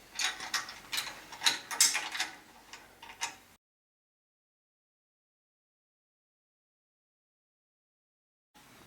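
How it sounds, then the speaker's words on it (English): A ratchet tightening two bolts while assembling a hydraulic pull wagon kit, rapid clicking pawl bursts for about three seconds, then silence before a short return at the end. "And now we tighten up these two bolts."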